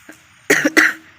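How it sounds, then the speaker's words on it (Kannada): Two light, short coughs from a person sick with a fever and sore throat, close and distinct in a quiet room. "ಹೀಗೆ ಲೈಟಾಗಿ ಕೆಮ್ಮು ಬರ್ತಾ ಇದೆ"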